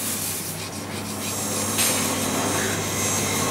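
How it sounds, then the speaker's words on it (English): Steady, continuous rubbing of a number 400 lap stick sanding a metal ring shank, close and even throughout with no pauses. "I'm just going to sand that with a lap stick"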